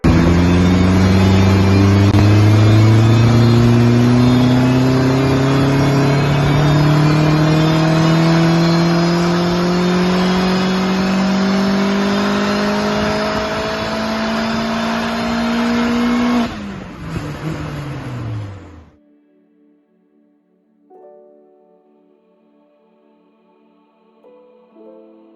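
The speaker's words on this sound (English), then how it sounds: "Here's a video of the car on the rolling road" A turbocharged Vauxhall VX220 held at high revs on a rolling road dyno, the loud engine note climbing steadily for over fifteen seconds before cutting off abruptly and spinning down to quiet.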